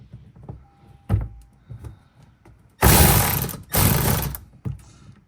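A low-torque tool ratchets tight during an oil change on a 2025 GR Corolla, giving two loud, close bursts of buzzing mechanical whir after some quiet clicks and handling noises.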